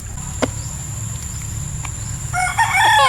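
Chickens at a coop give scattered clucks and then a loud crowing rooster near the end, over a steady hum of insects and crickets.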